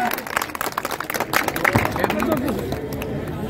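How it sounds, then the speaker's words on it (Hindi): A crowd at an outdoor kushti wrestling dangal in Bulandshahar claps loudly and raggedly amid general hubbub, with the clapping thinning into crowd chatter toward the end. "जरा जोरदार ताली बजाइए जरा"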